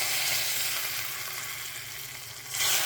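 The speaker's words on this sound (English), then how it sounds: "Bring it to a smoking point and pour it directly over the spices. The sizzle means it's working." Smoking-hot blend of vegetable and smoked mustard oil poured over chili powder, chili garlic sauce and salt, giving a loud, steady crackling sizzle that swells again near the end.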